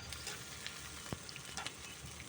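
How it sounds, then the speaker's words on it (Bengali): Garlic and onion fry in oil in a pan for a jute leaf stir-fry, giving a soft, steady sizzle with a few faint clinks and stirring sounds. "দেখো সুন্দর করে আমি এগুলো ভেজে নিতেছি"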